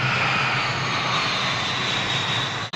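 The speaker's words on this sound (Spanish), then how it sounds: "Es nuestro amigo volador, el avión, que viaja sobre las nubes" A fixed-wing airplane flying overhead, its steady broadband engine roar holding at a constant loud level for nearly three seconds before cutting off abruptly.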